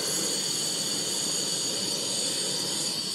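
A lit kitchen gas stove burner hisses in a steady, even rush before a pan goes on for cooking prawns, constant and close with no other sounds.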